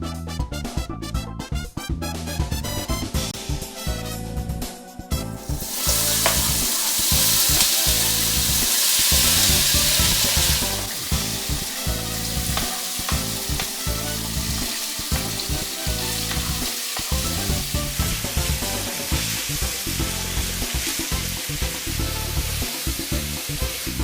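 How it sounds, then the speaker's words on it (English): Tofu pan-frying in canola oil over high heat gives a steady, loud sizzle and crackle throughout, swelling into a brighter hiss around the middle, with occasional scrapes and clinks of stirring. "lightly pan fry the tofu until golden brown"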